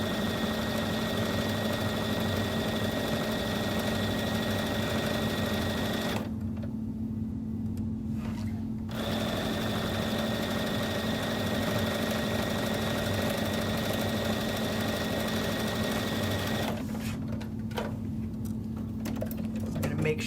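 A sewing machine stitches a quarter inch seam through quilt fabric, a steady close mechanical hum with rapid rhythmic needle pulses, stopping twice briefly before running on.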